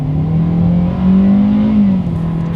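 A 2022 Hyundai Accent subcompact accelerates hard in sport mode, its engine note climbing steadily and loudly through the revs before easing off slightly, with no talking.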